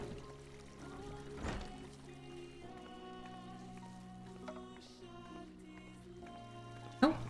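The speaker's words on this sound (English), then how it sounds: "I assume there's a bathroom over here because I hear running water." Water runs steadily into a bathroom tub inside a house in the video game FFXIV, a soft continuous pour under layered game music, with a sharp click near the end.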